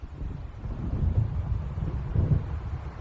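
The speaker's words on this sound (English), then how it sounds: "It seems there's a storm coming." Low rumbling thunder from a storm approaching over open water in the video game Alan Wake Remastered, rolling continuously with two heavier swells amid wind noise.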